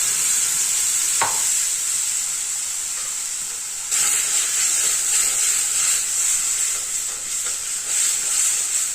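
Tomato paste goes into a hot pan of curry leaf tempering with turmeric, and a loud, steady sizzle and hiss follows, with a brief thump near the start and stirring noises later on.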